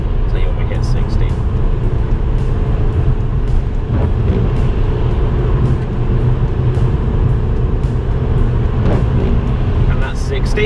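Ford Focus Mk2 accelerating from 40 to 60 in fifth gear along a bumpy A-road, heard from inside the cabin as a loud, steady engine and road-noise drone throughout.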